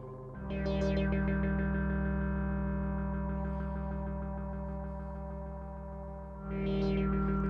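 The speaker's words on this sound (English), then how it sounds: "feedbacky kind of ring modulation at the top that when you turn this up and down as the sequence is playing, it creates a really cool effect." A Moog Matriarch synthesizer sequence with feedback-style ring modulation switched on, a loud droning pad with metallic, shimmering overtones and two bright swells, one near the start and one near the end.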